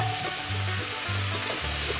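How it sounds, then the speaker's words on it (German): Onions, spring onions and mushrooms sizzle hard in a hot pan, a dense continuous crackle with a few soft stirring scrapes, close and without talk. "Und das Ganze jetzt nochmal richtig schön kräftig anschmoren, anbrutzeln, anbraten."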